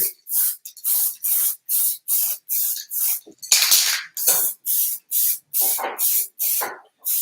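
An automotive spray lacquer can hisses in a rapid series of short, sharp bursts, close up, with brief pauses between each spray, finishing a bamboo bike frame.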